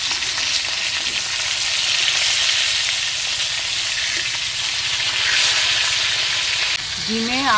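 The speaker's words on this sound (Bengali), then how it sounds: "এই মাছগুলো উল্টে দেবো।" Rohu fish pieces, rubbed with salt and turmeric, fry in hot oil in a wok with a loud, continuous sizzle up close, and a short wavering tone rises at the end.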